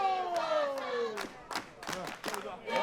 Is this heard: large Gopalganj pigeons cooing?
no